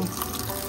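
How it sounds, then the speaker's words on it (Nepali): Snails being rinsed by hand under a running tap, steady close splashing and flowing water over a short burst with no talk. "मैले यसरी पखाल्न गइरहेको छु"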